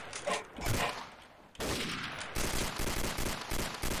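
Rapid bursts of video game gunfire crackle loudly and almost continuously, with dense volleys of shots close up and no voices over them.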